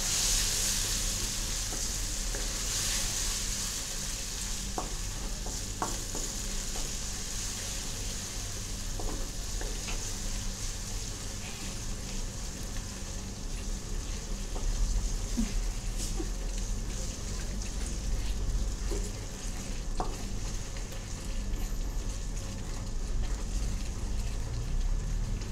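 Egg curry sizzles steadily in a hot pan as yogurt is stirred in, a continuous close frying hiss with faint scraping and small pops throughout.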